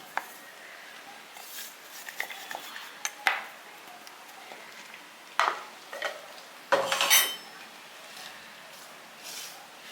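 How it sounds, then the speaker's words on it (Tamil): Ground paste being mixed by hand into snack dough in a bowl, with scattered close clinks and knocks against the bowl and a few louder scraping bursts, otherwise quiet. "இதெல்லாம் சேர்த்து இந்த மாதிரி பிணைஞ்சு கொடுங்க"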